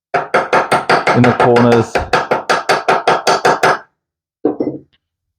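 A homemade chipping hammer knocks welding flux off a metal piece in a fast run of sharp, close, metallic taps, then a brief second burst, with a voice speaking midway.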